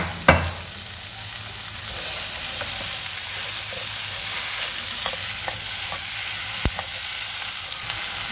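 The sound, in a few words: stir-frying chopped vegetables in a pan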